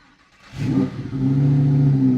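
A Lamborghini STO's engine swells from near quiet into a loud rev, then settles into a steady throaty drone heard close from inside the car, with no talking.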